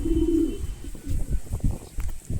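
Pigeons of the Kamalapur Kesari breed cooing close by, a soft throaty low coo at the start and then several more short murmuring coos through the rest.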